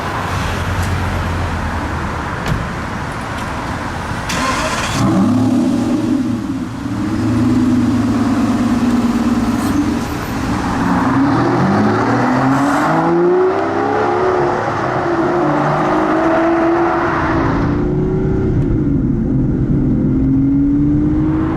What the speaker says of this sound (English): the Aston Martin V12 Vantage S